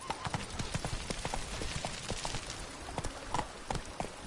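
Roach, a horse in The Witcher 3 Blood and Wine expansion, gallops with rapid, steady hoofbeats that stay loud and close through the whole stretch, over a dense background of ambient game sound.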